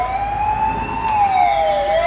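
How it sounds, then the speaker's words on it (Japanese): Ambulance siren wailing in Hokkaido traffic, its steady rising and falling tone loud and close over a constant road rumble, with no talking. "すごいね、北海道は止まらないんですか、救急車とか来ても。"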